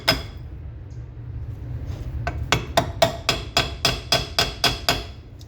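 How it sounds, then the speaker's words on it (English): A hammer taps a rear brake adjuster off a Triumph Spitfire: about ten sharp metallic knocks in a steady, quickening rhythm, close and clear, following a single earlier clank and a short quiet pause. "I'll go back to the caveman way and tap it off with the hammer."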